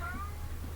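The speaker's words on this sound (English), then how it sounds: "there's a cat at the door. It's knocking on the door. He's saying meow." A cat at the door gives a short meow, a soft tonal cry over a steady low hum, close and alone; no knocking stands out.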